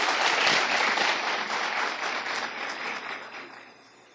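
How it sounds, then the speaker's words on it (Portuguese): An audience applauds at a family-themed talk by a psychotherapist, a dense wash of clapping that holds steady and then gradually thins and fades toward the end. "Palmas para elas."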